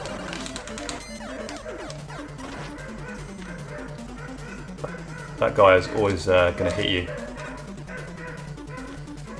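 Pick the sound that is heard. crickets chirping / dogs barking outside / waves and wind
dogs barking outside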